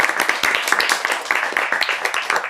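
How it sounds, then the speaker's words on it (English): Brisk, crowded applause from an audience at a science pitch competition, many hands clapping in a busy continuous patter that holds strong and close from start to finish. "I'm going to give them one last round of applause."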